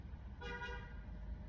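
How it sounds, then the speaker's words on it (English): A car horn sounds once outdoors from 0.4 to 0.7 seconds as a steady honk, moderately loud, over a constant low traffic rumble. "nobody was gonna honk their horn"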